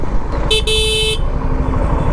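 A single thin, high-pitched, scooter-like horn beep from a Suzuki V-Strom motorcycle lasting under a second, with a brief break, over a steady engine rumble.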